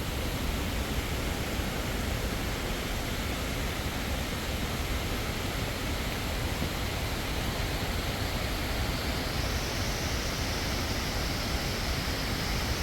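A waterfall in a scenic forest area gives off a steady, unbroken roar of rushing water for the whole stretch, loud and even, with no voices over it.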